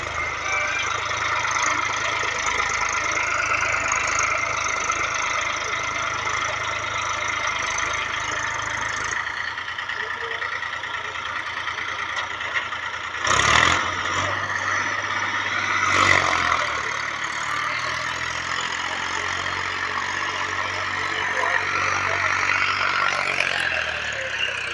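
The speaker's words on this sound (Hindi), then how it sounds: "ये देख सकते हो कितने प्यार से ट्रैक्टर चल रहा है, 1000 RPM पे चल रहा है" A Massey Ferguson 7235 DI 35 HP tractor engine running steadily at 1000 RPM, a constant mid-pitched diesel drone close by, with a couple of brief louder knocks partway through.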